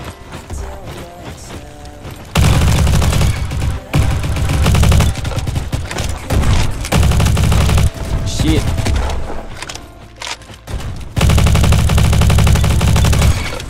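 Shotgun blasts in the Roblox shooter Bad Business, a loud run of booming shots in a king-of-the-hill match, fired in several dense bursts separated by brief lulls.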